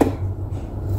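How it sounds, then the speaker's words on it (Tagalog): A knife chops food on a cutting board in a kitchen while burgers and potatoes are prepared, a single close thud followed by faint muffled handling, with no talk. "So, yun, hinihiwa ko na."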